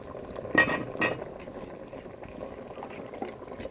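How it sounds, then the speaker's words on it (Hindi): Potatoes added to a pot of simmering aloo mutton gosht curry: two quick splashes and clatters close up, followed by a soft, steady bubbling of liquid, with no voices. "अब ये आलू भी इसमें जाएंगे।"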